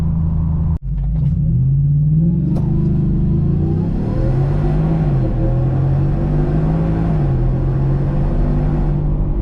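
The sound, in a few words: supercharged 2025 Ford F-150 accelerating 0-60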